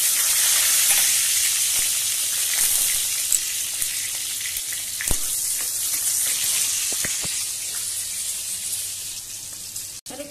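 Ivy gourd (kundru) and potatoes frying in a pan, a steady close sizzle and crackle throughout with occasional clinks of stirring, with no talking.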